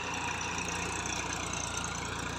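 A tractor engine ploughing a farm field drones steadily and continuously at moderate distance, an even, unbroken mechanical hum with no breaks.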